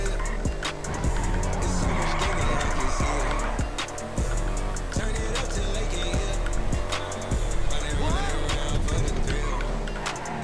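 Ferrari F40 in GTA V driving hard with continuous engine drone and repeated tire squeals and skids throughout, loud and steady with sharp transient knocks.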